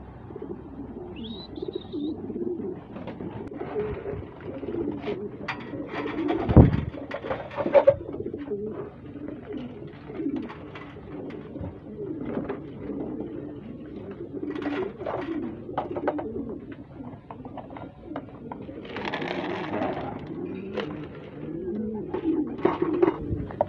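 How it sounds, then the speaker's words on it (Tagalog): Racing pigeons cooing and fluttering around a loft at feeding time, soft throaty coos overlapping at close range with wing flaps and a few scattered thumps. "So pakainin natin sila para magsipasok na yung mga barata birds natin yan mga kalapatid."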